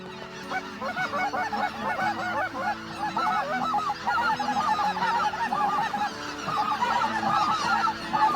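Flock of white-fronted geese honking continuously, many overlapping calls near and far in a dense, steady chorus during a goose hunt.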